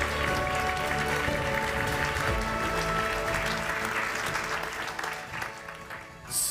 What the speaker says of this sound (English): here's one loud round of applause for our community winner